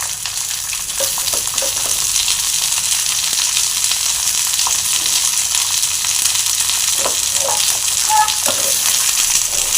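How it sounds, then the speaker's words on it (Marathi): Peeled sweet corn kernels roast in a kadhai with a steady, close sizzle and scattered small pops and scraping stirs throughout. "आता हे या कढईमध्ये घालूया आणि छान असं भाजून घेऊया।"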